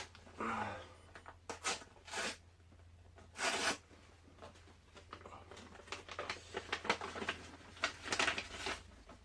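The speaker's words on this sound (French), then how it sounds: "Donc première enveloppe, hein, enveloppe du Japon. Donc on va ouvrir ça." A paper envelope from Japan holding a trading card is torn and opened, with crisp rips, rustles and crinkling paper handled close by at low volume.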